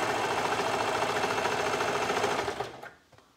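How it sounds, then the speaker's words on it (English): Sewing machine running steadily as it stitches the inseam of a pair of pants from one leg bottom to the other, a close continuous whirring drone that slows and stops near the end. "I just sew from the bottom of one leg over to the bottom of the other"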